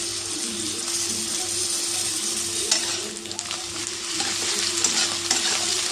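Ginger and garlic paste frying with onions in a pan for coriander chicken, a steady sizzle with rhythmic stirring clatter throughout, close and fairly loud.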